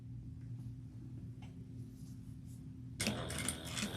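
Sewing machine stitching a crossbody bag seam at a quarter-inch allowance with a skinny foot and stitch length 3, starting abruptly after quiet room hum and running steadily close to the microphone.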